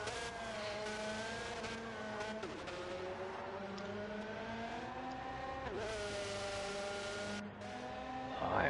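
Racing karts whine around the curves of the Eiger Nordwand track in an All-Star Karts racing video game, several high-pitched engines rising and falling steadily together throughout, with a broadcast commentator talking over them.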